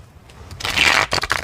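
Tarot cards are shuffled by hand, a quiet rustle building into a loud riffling burst followed by several shorter flicks and slaps of the cards.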